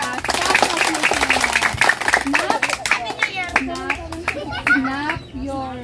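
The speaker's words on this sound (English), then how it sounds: "Clap your hands as fast as you can." Children clap their hands rapidly in a busy, overlapping patter while young voices chatter and squeal over it.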